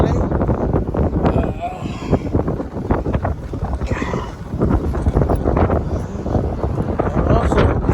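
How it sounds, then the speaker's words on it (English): Strong outdoor wind in LA during a car headlight restoration, heard as rough, gusty low rumbling buffeting the microphone, loud and continuous with surges and dips. "It's so windy out here today in LA."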